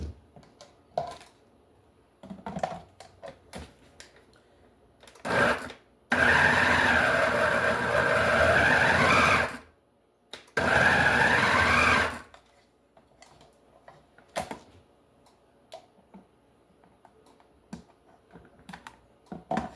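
A kitchen machine shreds and mixes sausage ball ingredients, its motor whirring loudly in two long bursts with a wavering pitch as it bogs down, separated by pauses of scattered clicks and handling knocks.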